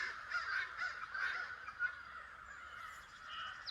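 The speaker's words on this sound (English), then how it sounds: "I don't know if you can hear the crows back here." Crows caw repeatedly at a distance behind a homestead, a dozen or more birds calling in overlapping harsh bursts against quiet outdoor background.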